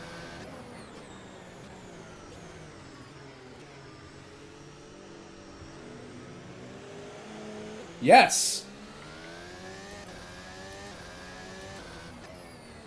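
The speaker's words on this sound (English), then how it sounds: "Sorry, I heard a car, so I wanted to see what I was up against." A car engine in the racing game Assetto Corsa drones steadily, its pitch sliding up and down as it revs and shifts. A person briefly shouts over it.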